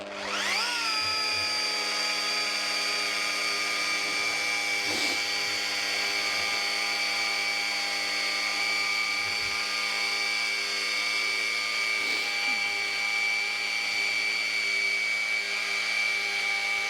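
A machine polisher working car paint at its lowest setting of 600 RPM gives off a steady, even whine that spins up at the start and holds with faint periodic swishes as it moves across the panel, close and continuous.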